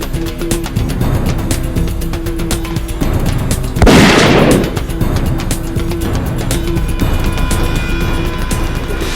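A Musgrave Field Deluxe .308 rifle fires once from a rocky cliff at a waterbuck bull, one loud boom that rolls out briefly amid outdoor bush ambience and clicking insects.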